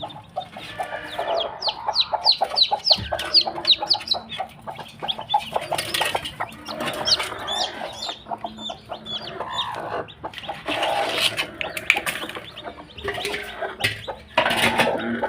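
About eight newly hatched chicken chicks peep in high, rapid chirps, overlapping with softer clucking and rustling close by, continuing steadily throughout.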